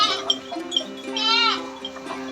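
Goats in a backyard shelter, a wavering bleat rising clearly near the middle over a steady hum and small knocks, close and moderately loud.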